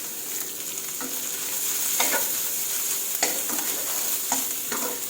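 Eggs and bamboo shoots stir-fry in a hot pan, a steady loud sizzle broken by repeated scraping strokes of a spatula, with no talking.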